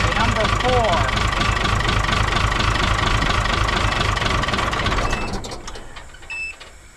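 A 1975 squarebody diesel engine idles loud and close with a rough, uneven clatter from misfiring cylinders 3 and 5, steady for about five seconds before it winds down and fades out.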